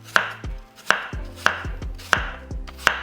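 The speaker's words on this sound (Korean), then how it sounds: "일단 저는 칼로 한번 잘라볼게요" A knife thinly slicing a cored apple on a cutting board, five sharp chops at a steady, unhurried pace, each a crisp close knock followed by a brief thud.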